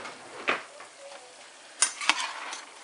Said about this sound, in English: So I give it a good stir to wet the noodles.